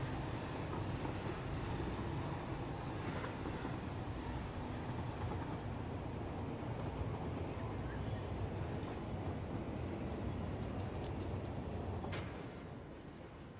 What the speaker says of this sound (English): This train has blocked it.